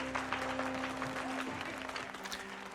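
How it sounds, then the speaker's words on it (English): Movie crowd applauding in Batman Returns, a steady dense patter of many hands clapping at moderate distance, with a sustained tonal hum running beneath and no clear speech. "I think half the people clapping are probably too scared not to clap."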